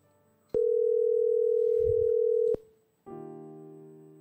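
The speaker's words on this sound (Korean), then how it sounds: "먼저 한번 전화를 연결해" Phone tones as a call is connected for a church counseling broadcast: a steady loud tone holds for about two seconds, cuts off, then a second lower, richer tone starts after a brief pause, with faint background noise.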